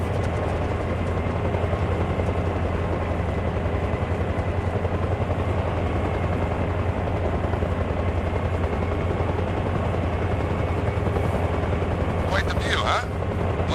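A helicopter climbing in the game Arma Reforger, a dense continuous rotor and engine drone at steady loudness throughout, with a few brief sharp sounds near the end.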